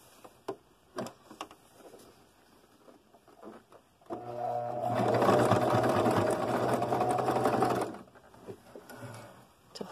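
A sewing machine stitches across the end of a fabric braid for a braided trivet or rug, a steady whirring run of about four seconds after scattered quiet clicks and handling, then stopping.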